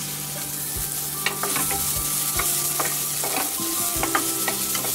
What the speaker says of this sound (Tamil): வெங்காயம் வந்து ரொம்ப பிரவுனாலாம் வதங்க வேண்டாம் சும்மா லைட்டா கொஞ்சம் வதங்கினா போதும்